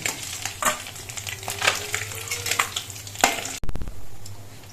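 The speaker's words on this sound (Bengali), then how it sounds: "মাঝারিভাবে মাছগুলো ভেজে তুলে নিচ্ছি" Khoira fish frying in hot oil in a kadai, a steady close sizzle broken by several sharp scraping stirs, then a sudden cut to a louder, rougher hiss near the end.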